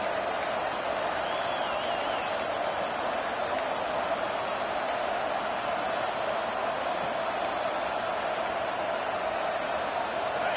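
A steady, loud stadium crowd roar fills a video game American football match, a continuous wash of noise with scattered whistles and cheers and no break throughout.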